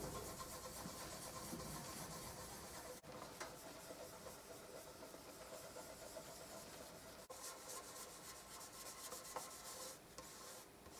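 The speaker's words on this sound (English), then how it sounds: "I've been polishing now for about 25 minutes, I guess, and what I've been doing is the top plate" An archtop guitar top plate is French polished by hand, giving a continuous soft rubbing hiss close to the mic with slight rhythmic swells and two brief breaks.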